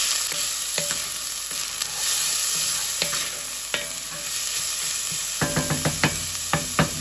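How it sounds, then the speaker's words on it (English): A spoon stirs spaghetti sauce in a pot over a steady sizzle and hiss, scraping and knocking now and then, then tapping in a quicker run of sharp clinks near the end. "we're just going to go ahead and stir it"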